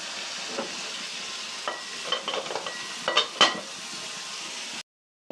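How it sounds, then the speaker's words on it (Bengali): Chicken khichuri with coriander and green chili, stirred in a pot, gives a close, soft sizzle with light scraping and clinks of a utensil, ending abruptly. "একটু নেড়ে ছেড়ে দিব।"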